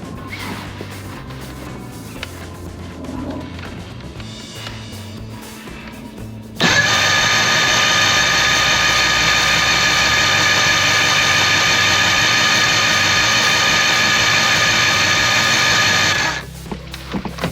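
A 1986 Johnson 90hp SPL outboard motor, set up in a yard, cranks over and catches at about the six-second mark, then runs with a loud, steady, buzzing idle for about ten seconds before cutting out. Quieter mechanical noises come before it starts.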